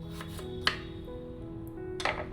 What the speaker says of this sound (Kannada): ನಾನಿಲ್ಲಿ ತುಂಬ ಸಣ್ಣದಾಗಿ ಕಟ್ ಮಾಡ್ಕೊಳ್ತಾ ಇದ್ದೀನಿ